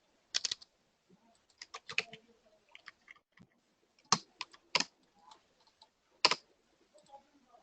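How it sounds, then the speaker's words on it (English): Typing on a computer keyboard while entering a search query into a web search engine, with bursts of close, crisp key clicks separated by short pauses, fairly quiet and with no talking. "so here typing what is big data"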